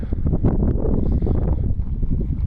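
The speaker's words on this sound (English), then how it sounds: "little windy." Gusty wind buffets the microphone at a lakeside campsite by a small island, a loud, rumbling rush that flutters unevenly throughout.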